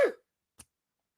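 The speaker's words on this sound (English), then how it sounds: "I started coughing again" A single cough burst at the start, loud and close, fading quickly, followed by a faint click after a short silence.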